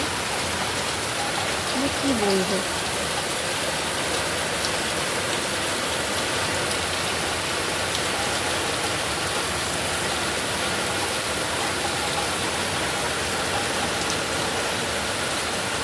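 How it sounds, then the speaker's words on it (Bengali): Heavy rain falls in a dense, unbroken roar of patter that stays loud and even throughout, with a voice speaking briefly near the start. "এত জোরে জোরে বৃষ্টি হচ্ছিল"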